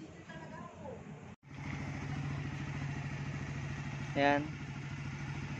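Yamaha Raider 150 Fi motorcycle engine idling steadily up close after a check-up, a low, even throbbing rumble with a brief cut-out and a short rev swell near the end, a voice speaking briefly at the start.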